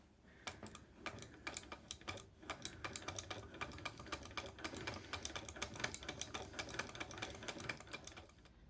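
A Caydo 4-needle manual I-cord knitting machine is cranked with yarn feeding through, making a fast, continuous run of light plastic clicks and ticks, close and fairly quiet.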